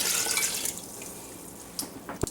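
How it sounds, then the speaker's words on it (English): Water is poured into a pot for chicken broth, a faint, soft splashing stream that trails off into a few light drips. "let's go ahead and add some water there"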